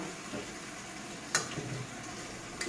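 Jaba sea fish fry in a pan for a bhuna curry, giving a steady close sizzle with one sharp clink of a utensil midway and no talk.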